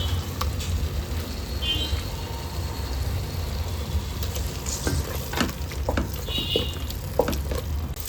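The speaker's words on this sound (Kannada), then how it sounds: "ಈ ರೀತಿಯ ಕೊಬ್ಬಿನ ಅಂಶ ಇದ್ದರೆ ಅದನ್ನು ಫಸ್ಟ್ ಹಾಕ್ಕೊಂಡು ಫ್ರೈ ಮಾಡ್ಕೊಳ್ಳೋಣ" Mutton fat pieces frying in a pan with green masala give a steady, close sizzle throughout, with occasional scraping stirs and soft clinks, and no voices.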